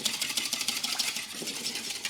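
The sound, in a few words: whisking custard mixture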